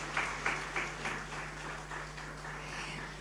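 At a women-in-business conference, a seated crowd gives a round of applause for the ladies, steady moderate clapping with a low electrical hum underneath, gently tapering off.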